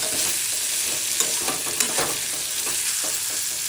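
Fried moong dal and moringa drumsticks are stirred in a hot pan, a steady close sizzle broken by scraping spatula strokes and a few sharper clinks, with no talking.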